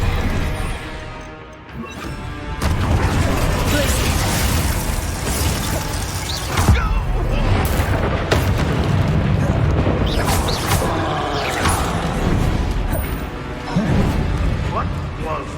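Fiery Confringo blasts from Hogwarts Legacy combat, loud crashing and shattering bursts repeating through a dense, chaotic battle mix with voices mixed in.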